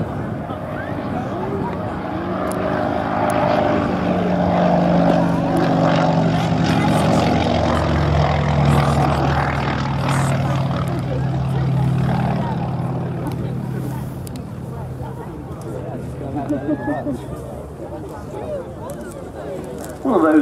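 A Percival Pembroke propeller aircraft passes with its undercarriage down, the engine drone rising, peaking and fading over about twenty seconds, with a commentator talking over it.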